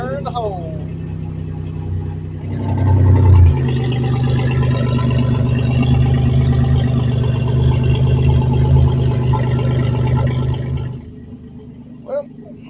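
A turbo V6 swapped into a Geo Metro starts and settles into a steady, loud rumbling idle up close, running alone for several seconds before cutting off.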